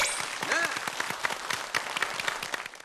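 A studio audience applauds to welcome a professor giving a lecture on memory and dementia, a dense burst of many hands clapping close by, with a voice briefly heard at the start.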